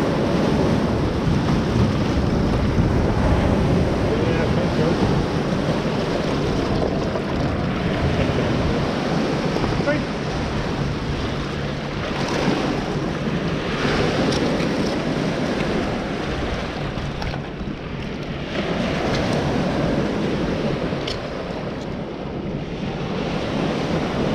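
Waves washing in on a shore during mudlarking, a loud continuous surf roar with wind buffeting the microphone, rising and falling gently for the whole stretch, no voices.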